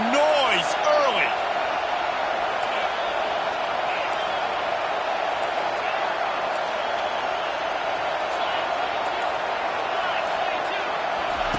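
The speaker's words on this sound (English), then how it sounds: "This crowd bringing the energy and noise early." Steady roar of a college basketball arena crowd, a dense wash of cheering and noise with occasional whistles and shouts, continuous and loud throughout with faint commentary underneath.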